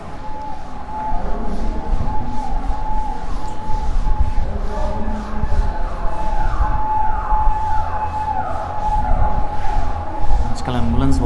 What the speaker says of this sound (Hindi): आजकल एम्बुलेंस बहुत दौड़ रही है भाई।